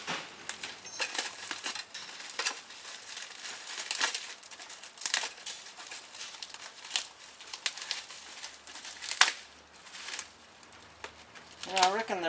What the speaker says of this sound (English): And get the sticky tape off.